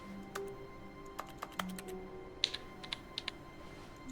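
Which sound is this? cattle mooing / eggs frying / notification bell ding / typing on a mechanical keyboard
typing on a mechanical keyboard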